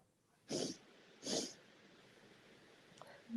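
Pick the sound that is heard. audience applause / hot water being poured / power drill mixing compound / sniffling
sniffling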